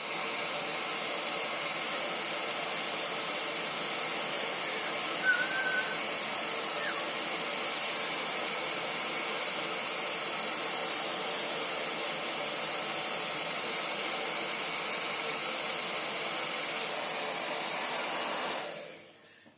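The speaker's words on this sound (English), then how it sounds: "So we're going to get the hairdryer and give it a wee bit of heat." A hair dryer blows hot air onto a cold golf grip before it is stretched, a loud, steady whooshing drone that holds for nearly twenty seconds and then cuts off abruptly.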